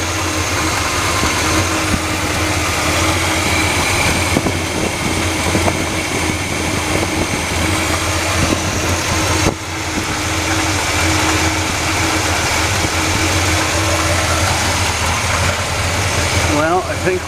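A 1976 Chevrolet C20 square-body truck engine runs at a steady, loud idle close by after being fired up, with a constant low rumble and vibration throughout and a brief dip midway.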